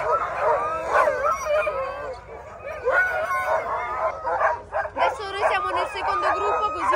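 A chorus of many husky sled dogs bark, yip and howl excitedly and without pause, close by and loud, before a sled run in Lapland.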